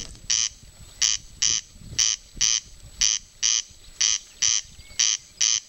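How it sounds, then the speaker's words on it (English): A corncrake calls in a steady series of about a dozen rasping, evenly spaced double-note crakes. The calls are fairly close and clear against quiet background, and no voices are heard. "We can hear the corncrake"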